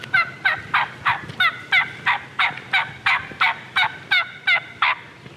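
A wild turkey gobbles and calls in a rapid, regular series of about fifteen sharp notes, fairly close and strong over quiet woodland background.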